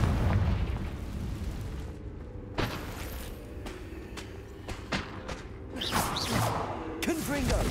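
Repeated Confringo blasting-spell explosions in Hogwarts Legacy, several sharp booms and bursts spread through a busy, loud battle mix with whooshing magic and a voice speaking over it.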